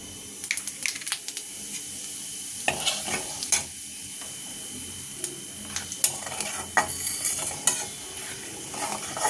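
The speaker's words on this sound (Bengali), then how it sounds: "একটু জিরে ফোড়ন দেবো" Cumin seeds tempering in hot oil in a pan while cooking a vegetarian paneer dish, giving a steady sizzle broken by scattered pops and the scrape and clink of a stirring spoon, close and fairly quiet.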